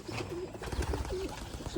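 Pigeons cooing in soft repeated rolling calls, close by, over a constant background rumble.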